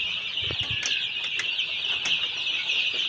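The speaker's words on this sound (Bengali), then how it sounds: "একদম সুস্থ সবল মুরগি দেখতে পাচ্ছেন" Kadaknath hens and roosters on a farm, a steady background of poultry chatter with a few brief clucks and wing flaps, fairly close and continuous throughout.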